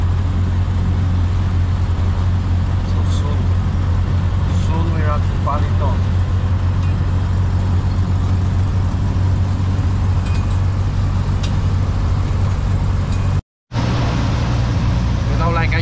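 A vehicle engine-brakes down a steep highway descent on Siquijor Island, Philippines, as a steady low drone that runs throughout with road noise, while a voice talks over it and a short dropout cuts in near the end.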